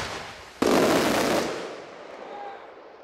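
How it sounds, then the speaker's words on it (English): Machine gun cake firework with red, white and blue tails: a sudden loud launch bursts into a dense, rapid crackling roar for nearly a second, then fades into a hissing, crackling tail with distant pops. "That's a machine gun cake with red, white, and blue tails."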